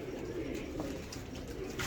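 Soft, low cooing from pigeons kept by a pigeon fancier, a faint steady murmur of throaty calls running through the whole short stretch with no voices.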